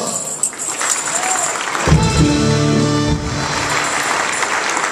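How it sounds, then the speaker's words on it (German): Applause from a carnival society audience at a Cologne dance group event, a broad wash of clapping with a brief sustained musical tone cutting in through the middle. "Dein Applaus"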